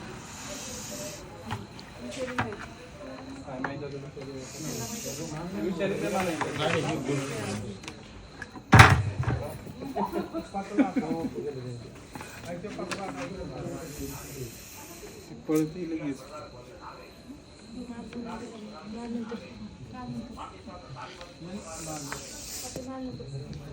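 A Russell's viper hisses repeatedly while cornered by five cats, its breathy bursts coming and going at close range beneath people talking nearby.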